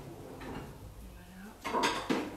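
A bowl is lifted out in a home kitchen while cooking samosas with goat cheese, giving a couple of close ceramic clinks and knocks toward the end after quieter shuffling.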